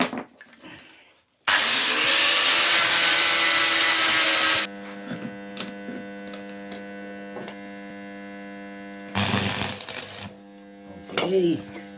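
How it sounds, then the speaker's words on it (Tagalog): A steel garage hook is welded in a home workshop, giving a loud, steady crackling hiss that lasts about three seconds. A second shorter burst comes later, with a low electrical hum running underneath throughout. "Ito, i-welding natin."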